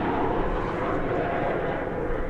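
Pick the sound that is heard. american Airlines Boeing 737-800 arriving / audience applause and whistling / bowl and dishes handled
american Airlines Boeing 737-800 arriving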